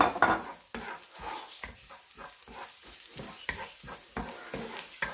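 Chopped garlic stirred into softened onion in a frying pan for a tomato and mussel pasta sauce, with soft, quiet sizzling under repeated scraping strokes of a utensil against the pan, with no voices.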